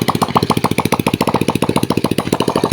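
A Motorstar motorcycle engine, restored from a junkshop and fitted with a new spark plug, runs close by in a loud, rapid, even chain of throbbing exhaust pops, with no voices over it.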